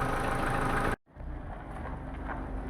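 A warming Opel Astra H 1.4 petrol engine, a car with a blown head gasket, idles with a steady low rumble and faint shake, cut by a brief dropout before the even running resumes.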